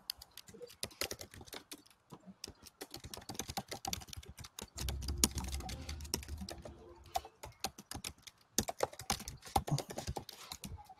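Typing on a computer keyboard: rapid, irregular key clicks in bursts with brief pauses, close and fairly quiet, with no talking over them.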